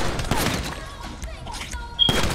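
Gunfire in Grand Theft Auto 5 crackles in a dense burst, loud and close, breaks off briefly, then returns.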